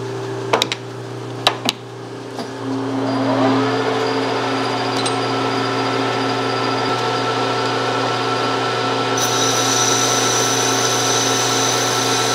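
A metal lathe turns down a Delrin plastic part to a one-inch outside diameter, with a few clicks before the motor spins up into a steady, loud machining whir and hiss that continues without talk.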